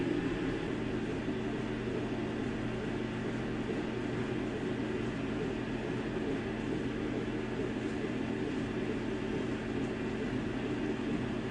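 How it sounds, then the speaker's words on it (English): Closed-lid laser engraver running a burn job, a steady, even drone of fans and air assist that holds at the same level throughout with no voices. "I'm going to close the lid and burn this."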